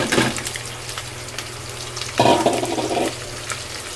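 Spice paste fries in oil in a pan for a chicken kali mirch dish, crackling and sizzling steadily up close, with a louder burst of bubbling hiss midway as the paste is stirred.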